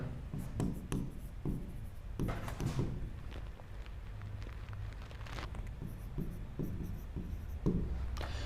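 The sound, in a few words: writing on paper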